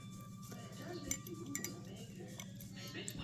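A tablespoon stirs Concord grape red wine in a glass container, giving light metallic clinks and scrapes at irregular moments over a low steady hum, fairly faint.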